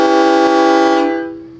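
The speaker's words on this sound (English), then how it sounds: "This one is equipped with a train horn." A train horn fitted to a Jerr-Dan 50/60T rotator tow truck blasts one loud, close, sustained note for about a second, then quickly fades away.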